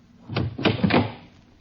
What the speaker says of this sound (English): I place them in here and close the small door.